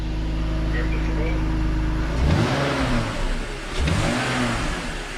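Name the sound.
BMW M54 engine revving when throttle is touched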